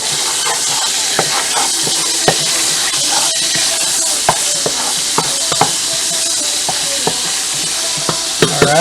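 Ingredients for Guyanese hassar curry fry in a pot with a steady bright sizzle, broken by frequent clinks and scrapes of a spoon stirring against the metal.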